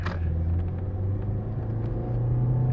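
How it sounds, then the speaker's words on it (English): A 2013 Ford Escape accelerating from inside the cabin, a steady low engine rumble that rises slightly in pitch toward the end, with no talking. "It accelerates great, shifts great"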